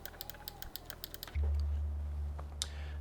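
A Razeak RK-X68 typewriter-style mechanical keyboard is typed on in a quick run of crisp, close clicky keystrokes. The typing stops partway through as a low steady hum starts, and one more sharp click follows.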